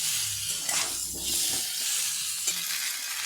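Spiced masala of cumin powder and slit green chillies sizzles steadily as it is stir-fried in a pan for a bitter gourd, potato and fish curry, with occasional scraping of a spoon.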